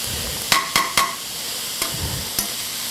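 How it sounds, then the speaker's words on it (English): Steady, bright hiss of food sizzling in a frying pan, with a few sharp clicks of a utensil against the pan. No one speaks. "you can hear the sizzling, and the sizzling is taking place."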